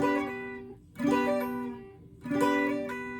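Strummed guitar plays a song's intro lick, with hammer-ons and pull-offs worked into the chord, sounding as two ringing strum phrases up close.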